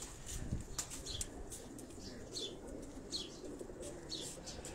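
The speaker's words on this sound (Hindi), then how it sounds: "ये सब उड़ने वाले जो कबूतर हैं" Pigeons on a Karachi rooftop flap their wings in short bursts after their cage is opened, with soft cooing and chirps, faint and close in a quiet space.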